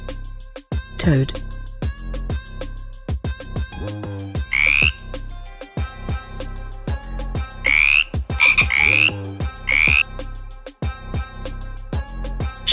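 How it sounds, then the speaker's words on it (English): A toad croaks in repeated bursts of loud, rattling calls with short pauses between them, close and clear, over a steady tonal background hum. "Toad."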